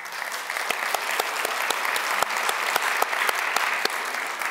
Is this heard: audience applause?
yes